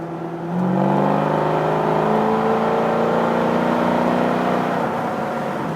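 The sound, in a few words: V8 car engine running in cabin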